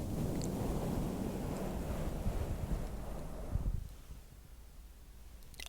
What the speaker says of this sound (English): I'm going to take this mic cover off again now.